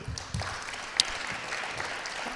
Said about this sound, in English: And again, another round of applause for all the panelists up here.